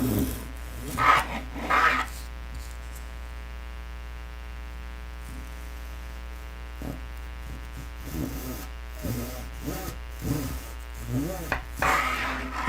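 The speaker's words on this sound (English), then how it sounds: "if you cut a little big, you can sand it to fit perfect." Model airplane stabilizer part being sanded to fit, with scratchy rasping strokes in a few short bursts near the start and again toward the end, over a steady low hum.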